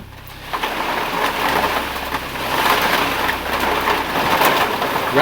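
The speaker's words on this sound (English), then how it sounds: "Rain." Steady rain falls as a continuous broadband hiss with soft patter, moderately loud and unbroken throughout, with no voices.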